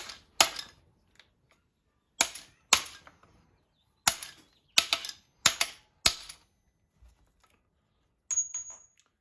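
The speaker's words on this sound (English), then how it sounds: "I'm gonna take a 36 millimeter socket and I'm just gonna hit this bearing into place" Metal hammer strikes on a 36 mm socket drive a bearing into a BMW E36 steering column, about eight sharp clanking hits spaced a second or so apart, close and loud with quiet between them.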